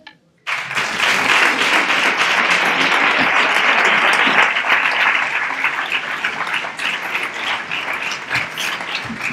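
A crowd at a Three Kings proclamation and coronation event in Nerva breaks into loud, sustained applause that starts abruptly and holds steady, thinning slightly toward the end.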